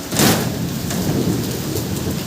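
Heavy rain pours steadily during a cyclone in Odisha, a loud, dense hiss of downpour lashing surfaces, with a deep rumble of thunder rolling in near the start and no voices.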